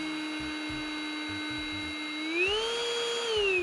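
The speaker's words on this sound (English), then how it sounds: "Just sounds like a vacuum now" A vacuum cleaner drones with a steady, tonal whine while someone vacuums an office, its pitch rising partway through as the motor speeds up and staying loud throughout.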